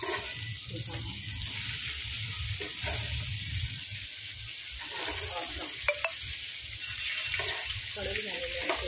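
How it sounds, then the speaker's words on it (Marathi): Surmai fish sizzles loudly in hot oil in a pan, a steady dense frying hiss with soft scraping and a few clinks as the pieces are turned over. "आता मी फिश पलटी करते."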